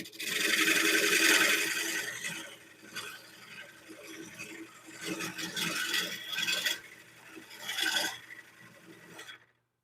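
A wooden plate spins on a lathe while carbide tools cut it, making close, harsh scraping and rasping in several long passes that swell and fade, with a faint motor hum underneath and no talk.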